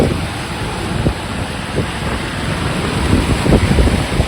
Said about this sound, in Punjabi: ਬਹੁਤ ਜ਼ਿਆਦਾ ਬਾਰਿਸ਼ ਹੈ